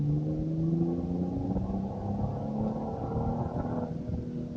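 A tuned 2023 Genesis GV70 AWD with a 3.5L twin-turbo V6 accelerates hard, its engine note rising steadily as a moderately quiet drone from inside the cabin, with no talk.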